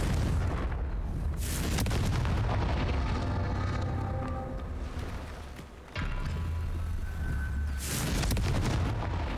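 A Confringo blasting spell explodes in Hogwarts Legacy, heavy booming blasts with rumbling debris, a dip in loudness midway, then another strong burst.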